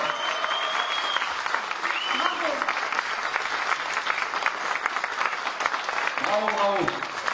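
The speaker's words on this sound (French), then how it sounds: "On applaudit encore une fois, s'il vous plaît." An audience at a French film event claps steadily after the cast and guests are named, brisk continuous applause with a voice speaking over it at times.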